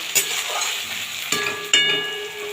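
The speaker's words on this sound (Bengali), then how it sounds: "ওই জন্য আমরা একসাথে দিয়ে ভেজে ফেলবো তাতে কি আলুটা পুকো হয়ে যাবে আমার নারকেল বাদাম ভাজাও হয়ে যাবে" Potatoes, coconut and peanuts fry together in a pan, crackling in a steady sizzle broken by a few sharp stirring knocks, near and fairly loud with no voices.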